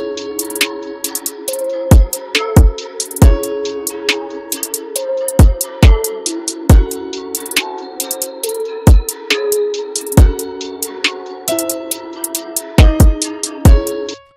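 Hip-hop beat made in FL Studio playing back, punchy kick and snare hits over a sustained melodic synth layer with crisp high percussion, loud and steady with no talk.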